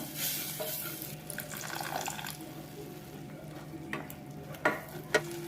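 A spoon stirs a masala of ground coriander-cumin powder, turmeric and water in a pan, giving a steady wet scraping and faint sizzle with a couple of sharper clinks of utensil near the end; no one speaks.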